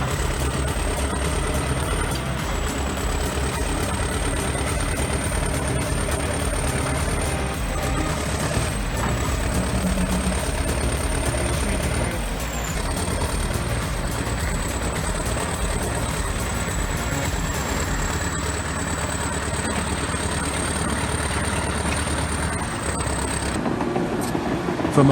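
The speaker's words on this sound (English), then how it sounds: "T-130 bulldozer roars as it hauls the heavy Kamaz truck up a steep incline." A T-130 bulldozer's diesel engine labours steadily and loudly as it tows a heavy Kamaz truck up a steep incline, a continuous low rumble with a sustained high whine over it and no break.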